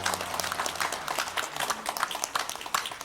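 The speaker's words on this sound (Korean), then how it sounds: "박수 쳐주시기 바랍니다" A church congregation applauds at a New Year's midnight service after a plaque unveiling, steady clapping from many hands heard at moderate distance.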